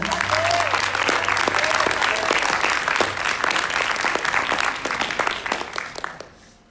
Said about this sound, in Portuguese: Pode aplaudir o Senhor, irmão.